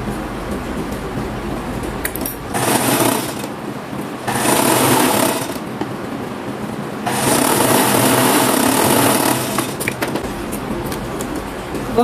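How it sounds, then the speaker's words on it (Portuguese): A sewing machine stitches shorts fabric in several sustained runs of fast, buzzing stitches, loud and close, separated by brief pauses with a low background hum. "Vamos costurar e depois nós vamos abater."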